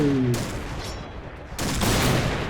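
L115A1 sniper rifle in a video game: two loud, sharp shots about a second and a half apart, each followed by a broad ringing tail, with a short voice at the start.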